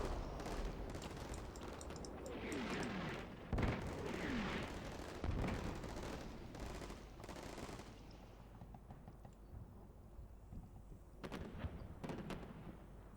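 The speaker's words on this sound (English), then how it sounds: "This grenade launcher fire hitting that building." In the Combat Mission Shock Force 2 video game, grenade launcher rounds strike a building, with a run of booming impacts and rattling bursts at a distance that later fade into a quieter stretch with a few scattered thuds.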